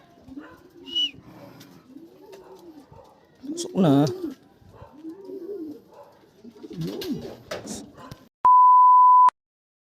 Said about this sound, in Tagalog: Andito na yung mga ibon natin